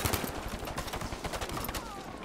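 Gunfire from a weapon in Battlefield V on the Operation Underground map crackles in rapid, closely spaced bursts, fairly faint and reverberant, with no talk over it.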